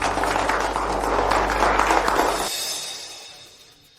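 Applause for a newly announced group president: a dense, loud wash of clapping from a crowd that holds steady for about two and a half seconds, then fades out quickly.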